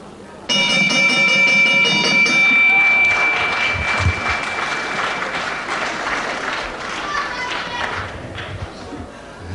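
At a televised World of Sport professional wrestling bout, the ring bell clangs with a long sustained ring near the start, followed by steady crowd applause and cheering while a commentator talks over it.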